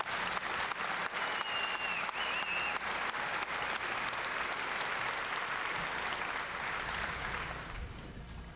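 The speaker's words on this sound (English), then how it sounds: "I would like everyone to give another round of applause to the drill sergeants and their families" Sustained applause from a large audience at a Fort Benning infantry graduation ceremony, honoring the drill sergeants and their families; dense, steady clapping that fills the space and fades slightly near the end.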